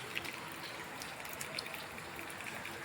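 Rain falls steadily during flooding in a Gujarat neighbourhood where water has entered homes, a faint, even wash of drops and running water with no one speaking.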